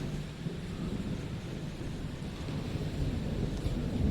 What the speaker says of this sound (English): Well, we got hit by lightning.